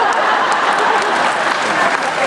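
Convention panel audience clapping steadily and loudly throughout, a dense continuous burst of applause from a large crowd with no pauses.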